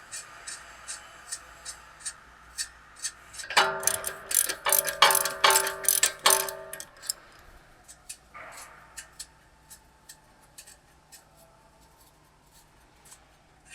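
Ratchet wrench loosening an 18 mm castle nut on the front suspension of a 2005-2009 Ford Mustang S197, a close, fast burst of clicking pawl strokes followed by several slower, sparser clicks.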